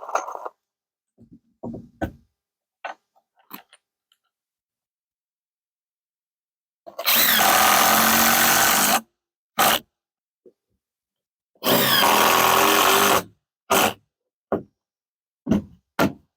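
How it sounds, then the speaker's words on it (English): A power drill drives screws into the ends of wooden deck stair treads laid on a new stringer. It makes two long, loud whirring bursts, with scattered knocks and thumps of handling between them. "we will put screws in the ends and we will have a couple steps in."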